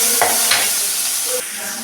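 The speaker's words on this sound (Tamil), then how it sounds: "நல்லா கோல்டன் ப்ரௌன் வர வரைக்கும் நல்லா வதக்கிக்கோங்க." Sliced onions with a chilli fry in a pan for a sambar side dish, a steady loud sizzle broken by a few scraping stirs of a spoon close by.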